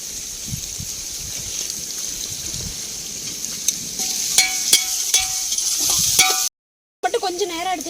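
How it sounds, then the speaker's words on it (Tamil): Onions sautéing in a pan with a little salt while making paneer biryani, a steady sizzle with occasional stirring scrapes, close and continuous, briefly cut off near the end. "வெங்காயம் கொஞ்சம் நல்லா வதக்கிறதுக்காக தூளுப்பு கொஞ்சம் சேர்த்துக்கலாம்"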